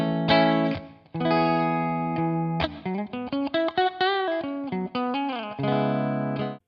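An electric guitar runs through the Two Notes Genome "Crispy clean" preset, playing sustained clean chords and then a quick run of single notes with a reverb tail, alone and with no talking.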